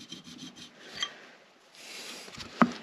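A plane blade edge rubbed on a strop in a few short, soft, close strokes, with a sharp tap near the end.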